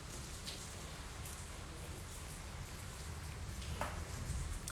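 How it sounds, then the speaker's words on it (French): Steady heavy rain pours in Abidjan, a dense continuous hiss of drops on surfaces with a low rumbling wash underneath, no voices. "ici il pleut grave"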